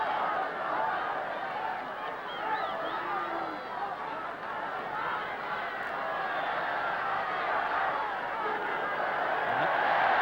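A football crowd of about 55,000 packs the ground at a Chelsea match against Manchester United, a steady, dense roar of murmuring voices and distant shouts that swells slightly toward the end, with no clear speech in front.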